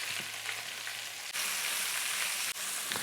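Onion hits a hot pan after sausage has browned, bursting into loud, continuous close sizzling with brief clatters as it goes in and is moved around.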